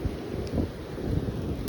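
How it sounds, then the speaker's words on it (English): Blizzard wind blows steadily outdoors in the snow, a low, constant rushing roar buffeting the microphone with soft gusty swells and no speech. "You hear that wind?"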